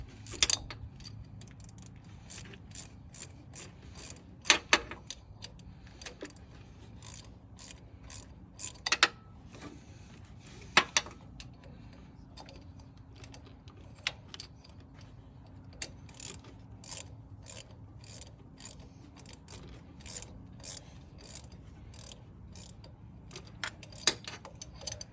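A ratchet tightens a spark plug on a Saab 9-2X Aero during a spark plug and coil pack job, giving quiet, steady clicking that continues throughout with a few sharper metallic ticks and no talking.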